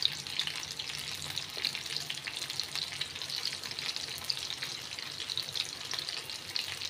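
Beef pieces frying in oil with curry leaves and fennel seeds, a steady dense crackling sizzle that holds evenly throughout, close and moderately loud with no voices.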